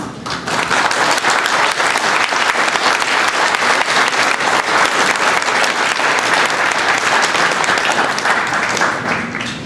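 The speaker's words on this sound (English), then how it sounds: "Please also join me in a warm round of applause" Loud, sustained applause from an audience at a National Register celebration at a temple, with many hands clapping steadily and densely for about ten seconds and no talk over it before it fades slightly at the end.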